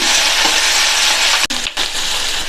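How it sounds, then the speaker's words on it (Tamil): Tomato and curry leaves sauté in a hot pan for a cabbage side dish, giving a loud, continuous sizzle with a brief break from a stir partway through. "இந்த தக்காளியையும் லைட்டாக 1 நிமிஷத்துக்கு வதக்கி விட்டால் போதும்."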